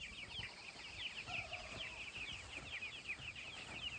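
Big Red Broiler meat chickens on grass cluck and murmur softly in a busy, overlapping chatter, with a steady faint background hiss throughout.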